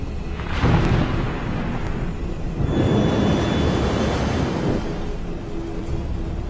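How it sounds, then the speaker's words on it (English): A passenger airliner flying into a heavy storm with torrential rain produces a deep continuous roar and rumble, swelling in strong surges with turbulent noise, loud and close throughout without speech. "85 kilometers from the airport, the plane hits a storm."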